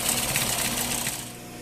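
A sewing machine understitches a facing at 1 millimeter from the seam, giving a fast, even mechanical whir that runs steadily and close by, then eases slightly toward the end, with no talking.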